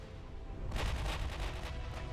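Battleship main-gun salvo in the naval video game Ultimate Admiral Dreadnoughts, a deep muffled rumbling boom that swells suddenly and rolls on with a rapid rattling texture, moderately quiet.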